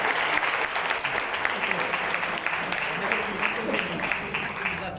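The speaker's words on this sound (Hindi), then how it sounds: "तो इस दर के लिए ताली बजा" Sustained applause from a large audience at a Hindi kavi sammelan (poetry recital event), dense steady clapping filling the whole stretch at even loudness.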